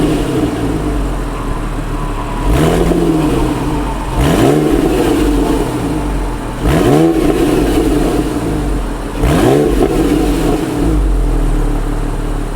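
Porsche 997 911 exhaust fitted with Gundo Hack mufflers, revved several times from a deep idle rumble into quick rising snarls that fall back between blips, loud and close.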